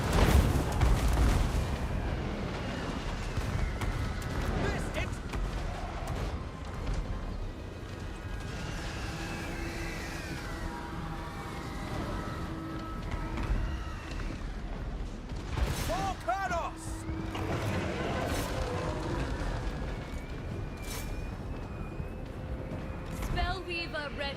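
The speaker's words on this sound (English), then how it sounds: "they already got rockets firing from me in the back now" Rocket launchers firing in a Total War: Warhammer 2 battle, a dense stream of booms and whooshing blasts rolling over continuous battle din, with a voice talking over much of it.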